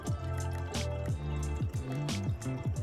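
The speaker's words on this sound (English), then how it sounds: "Measure out 1/3 cup water." Water is poured into a measuring cup for pancake batter, a close, bubbling, glugging fill with rising gurgles and splashes over a few seconds and no voices.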